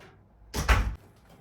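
A door swinging shut indoors in a home, a single close thud with a short rattling tail, preceded and followed by quiet room tone.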